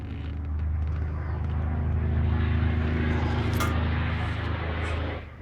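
A 2012 Hyosung GV250 fuel-injected V-twin motorcycle engine runs steadily, giving a deep, even, low-pitched drone that holds at constant loudness throughout, with no voices.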